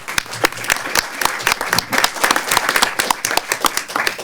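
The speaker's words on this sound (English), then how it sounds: "So if you join me in a round of applause for everybody listed." An audience at the end of a talk event on a labour enforcement dispute breaks into warm applause, with dense, irregular clapping from many hands filling the room, steady and fairly loud.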